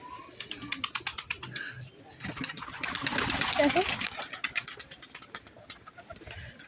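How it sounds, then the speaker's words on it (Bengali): A pigeon coos on a house rooftop, soft repeated calls under a nearby voice, with a rapid ticking mechanical rattle running through much of the background. "একটা পায়রা দেখো এখানে বসে রয়েছে"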